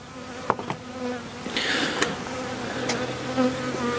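Honeybees buzz steadily throughout a beehive inspection, a continuous close insect drone with a few sharper passes and brief bumps, and no voices.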